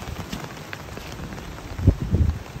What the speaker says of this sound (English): The hard rain and fall and the place gets soft.